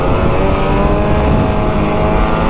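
A motorbike engine drones steadily and loudly under acceleration, with a barely noticeable turbo whine mixed into the continuous roar and wind; no voices.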